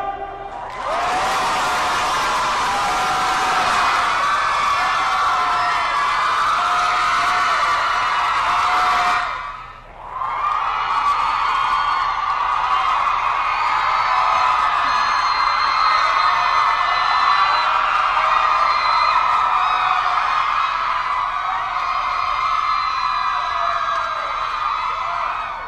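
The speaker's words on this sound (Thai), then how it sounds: "ขอเสียงกรี๊ดต้อนรับน้องโยหน่อยครับ" A large audience at a university stage event screams and cheers in welcome, a loud sustained roar of shrieks that dips briefly, then swells again and carries on for a long stretch.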